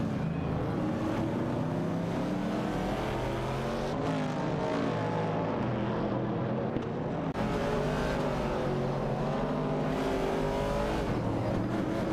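Video game race cars, including a Ford Falcon and Mercury Cougars, roar continuously with layered engine drones that rise and fall through gear changes and revs, loud and close with no talk.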